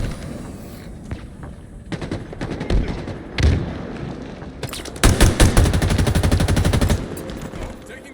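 Gunfire in a Halo Infinite multiplayer ball match: scattered shots and thumps build into a loud, rapid automatic burst in the middle, then trail off into quieter fire, with no talking.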